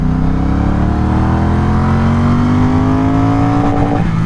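Triumph Speedmaster motorcycle engine revving hard in first gear up to the limiter, a loud, close, steadily rising engine note that climbs in pitch and then breaks up at the limit.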